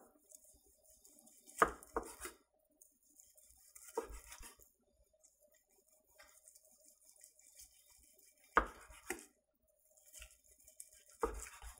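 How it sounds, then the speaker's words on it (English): A knife cuts cooked corned beef into thin slices on a board, giving several sharp chopping clusters separated by quiet gaps, with faint handling noise between cuts. "So do it in really thin slices, just like that."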